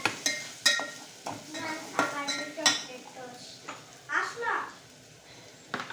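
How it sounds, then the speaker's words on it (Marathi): Spices sautéed in oil in a pan for matki bhaji: repeated scraping strokes of a spoon against metal over a low sizzle, with clinks between strokes and a voice briefly talking. "मसाले चांगले तेल सुटेपर्यंत परतून देणार आहे"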